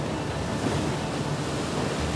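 Strong wind and crashing waves at sea around Ottoman galleys, a dense, continuous roar of surf and gusting air, loud and unbroken with no voices.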